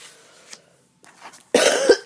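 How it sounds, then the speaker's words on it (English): A person who is sick gives a soft throat noise, a short pause, then one loud, close, harsh cough at the end. "You're going to have to put up with a periodic cough."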